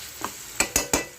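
A spoon scrapes and stirs brinjal curry in a cooking pan, giving three or four quick, close scraping strokes over a faint sizzle.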